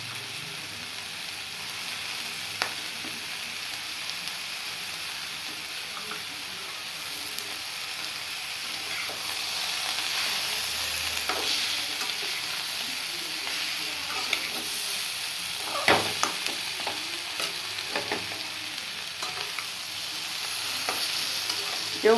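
Coriander leaves and green chillies frying in a pan while being stirred, with a continuous close sizzle and hiss broken by occasional scraping clinks of the spatula against the pan.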